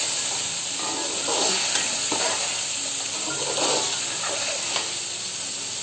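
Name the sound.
boiled eggs frying in masala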